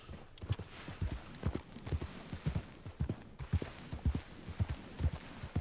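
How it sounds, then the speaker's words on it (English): Horses' hooves clip-clop in Red Dead Redemption II, a steady, moderately loud walking rhythm of hoofbeats continuing throughout with little else in the background. "Beautiful horses."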